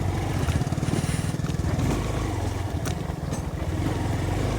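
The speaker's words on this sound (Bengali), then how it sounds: "3 নম্বর বাইক হচ্ছে আমি আর ডক্টর ইমরান" A motorcycle carrying two riders travels through rural Kapasia, Gazipur, on a cold, foggy winter morning. Its loud, continuous engine drone pulses steadily up close, mixed with wind noise.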